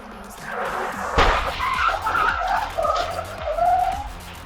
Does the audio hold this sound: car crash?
yes